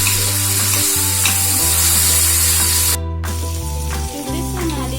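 Ginger garlic paste frying in hot oil, a loud, close, continuous sizzle and spatter with a steady low hum underneath and a brief dip partway through.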